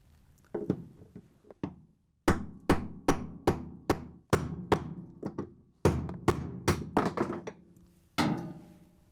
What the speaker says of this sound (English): we're going to drive the upper bearing out